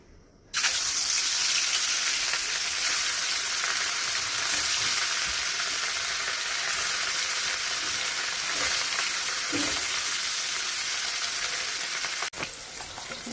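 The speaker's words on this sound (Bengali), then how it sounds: "তেল গরম হয়ে গেছে, এবার আমি মাছগুলো ভেজে নিচ্ছি।" Large katla fish pieces fry in hot mustard oil with a loud, dense, continuous sizzle that starts abruptly and holds steady throughout, close up.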